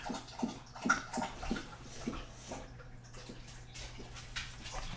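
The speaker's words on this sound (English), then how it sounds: "Dog's drinking water like a psycho." A dog lapping drinking water, a quick run of soft wet laps and splashy licks that slows and fades, with faint background hum and no talking.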